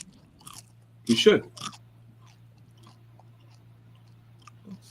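Crunchy fried chicken cooked in pure lard is bitten and chewed close to the mic, a burst of crisp crunches in the middle, with brief speech nearby and a low steady hum underneath.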